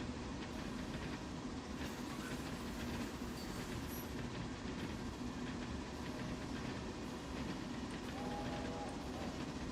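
Logging train on an Appalachian railway in a modded railroad video game, a steady low rumble of rolling stock with faint wheel clatter and a brief high squeal near the end, moderately quiet and continuous.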